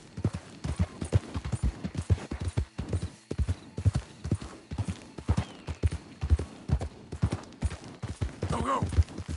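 Horse hooves clip-clop at a steady gallop in Red Dead Redemption 2, a rhythmic run of loud, close hoofbeats with a brief whinny near the end.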